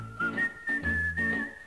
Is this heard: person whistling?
yes